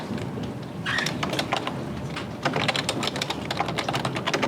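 Fast, irregular clatter of keys on a computer keyboard as text is typed into a Microsoft Word document, close and continuous with no talk.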